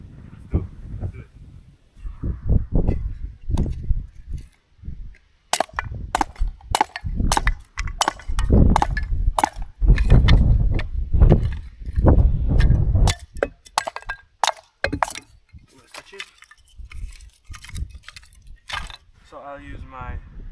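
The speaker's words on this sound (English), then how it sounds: "I'll use a fire starting rod so that I can have some fun." A fire starting rod is struck over and over with a stainless bushcraft knife, giving sharp scraping strikes in irregular bursts, close and fairly loud, with talking in between.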